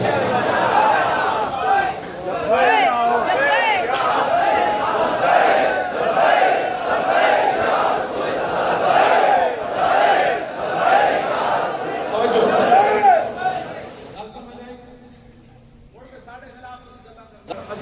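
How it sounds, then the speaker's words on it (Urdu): Large crowd at a religious political rally in Gujjar Pur shouting Labbaik slogans in loud rhythmic unison, repeated chant bursts filling most of the clip before fading into quieter voices near the end. "اندر بھی لبیک کے نعرے تے باہر بھی لبیک"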